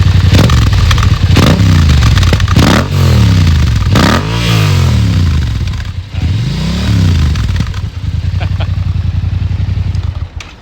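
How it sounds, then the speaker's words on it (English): A 2022 Yamaha R7 60th Anniversary Edition motorcycle engine idles loudly, then revs in a few short bursts followed by a longer, bigger rev before settling back to a throbbing idle. "Give it a couple revs. Little ones or big ones? Do a couple little ones and then a big one."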